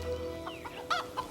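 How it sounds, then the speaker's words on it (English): Several roosters clucking in a pioneer-style 1870s settler barn, short close clucks and squawks in quick succession at moderate volume. "You got too many roosters in here."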